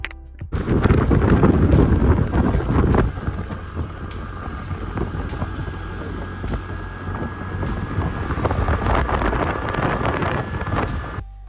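Heavy wind buffeting a microphone on a motorbike ride, a loud continuous roar that is strongest in the first few seconds and then settles into a steady rushing rumble.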